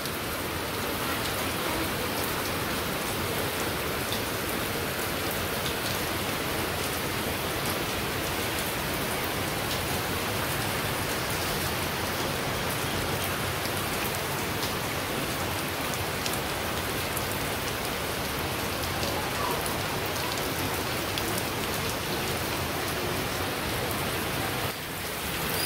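Heavy rain falling steadily on surfaces, a dense continuous roar of drops close by, unbroken for the whole stretch.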